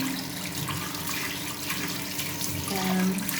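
Tap water runs steadily into a sink while a face is washed during a night skin care routine, a continuous even splashing hiss with slight shifts in flow, close by.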